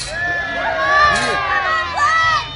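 Lively crowd at a Scottish Highland Gathering cheering and calling out together, a dense hubbub of excited voices and shouts with rising swells, close and fairly loud throughout.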